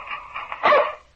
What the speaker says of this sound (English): That's my dog, Tige.